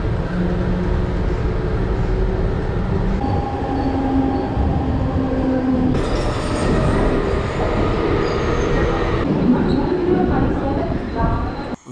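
A train moves through a busy Indian railway station, a steady rumble with wheel squeal and rising hiss, while people talk in the background.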